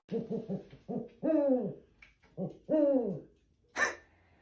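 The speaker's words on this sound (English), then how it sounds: "Meet the Eurasian eagle owl." Eurasian eagle owl hooting close and clear, a series of short deep hoots followed by longer drawn-out calls, ending with a sharper higher cry, with no talk.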